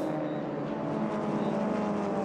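Race cars running on the Magny-Cours circuit during a VdeV Sports endurance race, a steady, continuous engine drone at moderate distance with no breaks.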